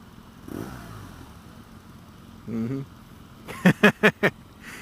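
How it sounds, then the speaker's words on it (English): A 2017 BMW R NineT Scrambler's 1200 boxer engine on its stock 2-into-1-into-2 exhaust idles quietly, gives a short rev, then four quick, sharp throttle blips in a row, close and punchy. "Now this one has a stock exhaust on it, which is a 2 into 1 into 2"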